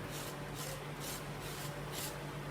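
A pencil is sharpened by rubbing it on coarse sandpaper, giving a dry, gritty rasp in steady back-and-forth strokes, about two per second, close and continuous beneath a low hum.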